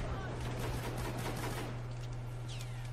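Rapid automatic gunfire in the video game Battlefield 4 during online multiplayer, a dense continuous burst of shots over a steady low hum.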